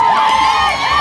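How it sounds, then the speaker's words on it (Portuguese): Atlético da Raposa supporters cheering loudly at the Copa Eldorado 2022 football final against São Paulo in Olho d'Água do Mato, a brief close burst of shouting crowd noise. "A torcida do Atlético tá feliz"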